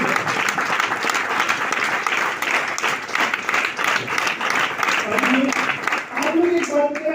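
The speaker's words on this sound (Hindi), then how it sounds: "मैं सर के सामने एक बार जोरदार तालियां" An audience at a workshop claps loudly and continuously in sustained applause throughout, with a voice speaking briefly near the end.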